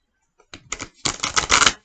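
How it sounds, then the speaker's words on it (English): New, stiff tarot cards being shuffled by hand, a short burst of crisp riffling clicks and flutters that builds over under two seconds, close and alone. "These are new cards, so bear with me as I shuffle them"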